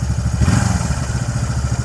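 A 1976 Honda CJ360T motorcycle engine runs steadily at a quiet idle, giving a close, even low-pitched throb with a light mechanical clatter and no voices.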